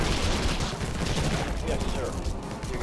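Weapon fire and explosive blasts from the sci-fi strategy game Infested Planet, including a rocket launch, form a dense, continuous barrage of gunfire-like bursts with no clear single shot standing out.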